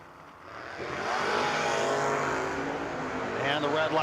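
Drag racing cars including a Ford Mustang roar in a sustained, loud engine run at a no-box drag race, building over the first second and holding steady, with an announcer's voice talking over the noise.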